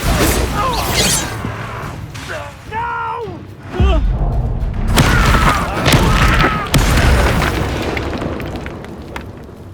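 Bombarda explosion spell in Hogwarts Legacy, booming blasts and crashes amid battle effects and magical whooshes, with voices shouting over the combat.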